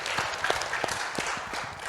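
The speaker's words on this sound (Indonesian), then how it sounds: "Boleh tepuk tangan dulu buat pertanyaannya." Brief, scattered clapping from a small audience, moderately loud and steady for a couple of seconds.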